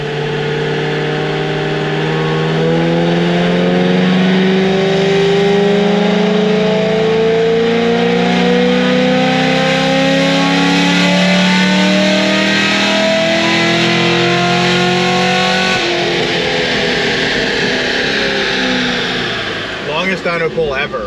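An LS7 V8 engine revs hard on a dyno, its harmonic roar climbing steadily through a long, loud sustained pull before backing off sharply near the end, with talk mixed in over it.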